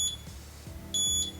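A multimeter's high-voltage alarm gives two short, high-pitched electronic beeps a second apart over a low background hum, during a battery build.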